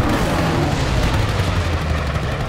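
Enemy anti-aircraft fire booms in a WWII dogfight video game, a dense, continuous barrage of rumbling blasts and crackle that stays loud and steady throughout, with a faint trace of voice underneath.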